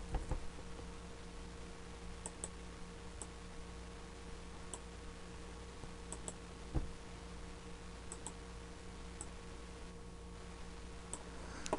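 Computer mouse clicking and dragging during a drawing program lesson: sparse, faint, quiet clicks scattered over a steady low background hum, with no talking.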